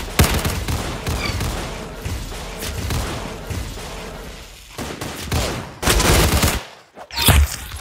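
Rapid bursts of video game gunfire in Arsenal, dense crackling volleys of shots rattling continuously with brief gaps and a loud final flurry.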